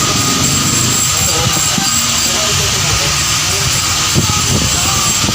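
A Mio i motorcycle engine runs loud and steady during an ECU check for a stalling fault, a constant droning hum, with people talking over it.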